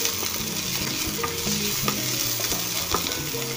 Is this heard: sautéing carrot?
yes